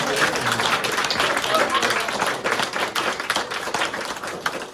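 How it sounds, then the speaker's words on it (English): An audience at a poetry reading in an art museum applauds, a steady wash of many hands clapping at moderate volume that gradually thins toward the end, with voices murmuring underneath. "Let's just have a round of applause."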